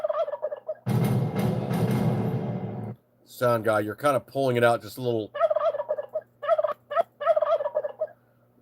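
A turkey gobble sound effect plays on a late-night talk show: a loud, warbling gobble burst, then a rapid run of gobbling calls, with people talking in between and afterward.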